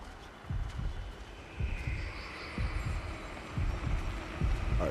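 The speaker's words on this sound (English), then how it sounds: "That heartbeat getting faster." A heartbeat sound effect in a video game, with deep, throbbing double thumps repeating at a steady rhythm for several beats over a low background hum.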